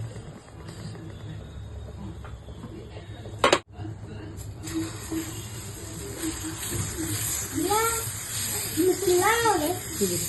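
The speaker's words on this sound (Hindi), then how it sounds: "चलो मैं डोसे डालती हूँ" Dosa batter hits a hot new pan in a Hyderabad home kitchen with a sharp burst, then settles into a steady, bright sizzle, while voices talk over it.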